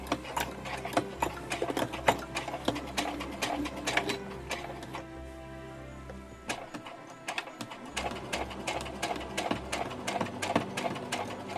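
A sewing machine stitches a patchwork stocking in rapid, clattering bursts, its needle mechanism hammering steadily up close, briefly pausing midway before running again.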